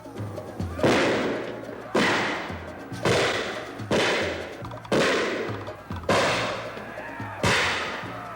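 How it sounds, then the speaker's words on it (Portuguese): Heavy artillery fire in a film battle scene: seven loud, evenly spaced booming blasts, each with a sharp attack and a long rumbling decay. "Os brancos atacavam com forte e cerrada artilharia em várias direções."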